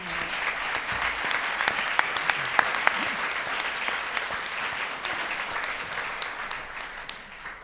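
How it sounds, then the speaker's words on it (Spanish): An audience claps steadily for several seconds, a dense, even applause with a few sharper claps standing out, fading slightly toward the end. "Súper, nada, un fuerte aplauso."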